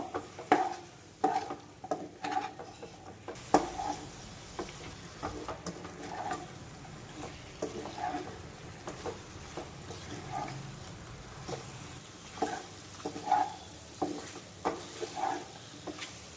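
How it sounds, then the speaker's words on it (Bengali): Chopped bottle gourd frying with spices in a pan, soft continuous sizzle broken by repeated scraping and clinking stirs at an uneven rhythm, close and fairly quiet, no talking. "মশলার সঙ্গে লাউ আমি ভালো করে একটু কষিয়ে নেব।"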